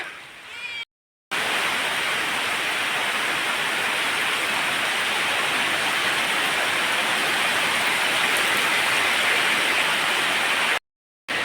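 Heavy rain pours steadily as a dense, continuous hiss, loud and close, with brief breaks at the start and near the end.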